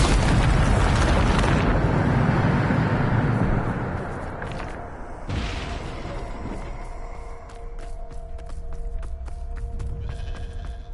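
A Bombardo explosion spell in the video game Hogwarts Legacy bursts with a loud, rumbling boom that fades over a few seconds, followed by quieter magical effects and scattered chimes.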